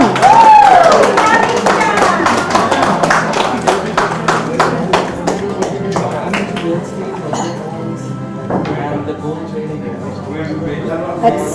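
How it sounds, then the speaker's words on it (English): Audience clapping at an awards ceremony, a loud burst of many hands that thins out over several seconds, with a presenter's voice and sharp clinks mixed in. "Big round of applause, come"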